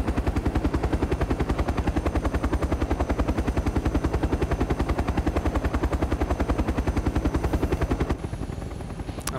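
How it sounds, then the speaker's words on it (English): Rapid, continuous automatic gunfire in ArmA 3 rattles in a steady rhythm for several seconds, loud and close, with the burst ending just before the close. "I'm hearing some serious gunfire down there."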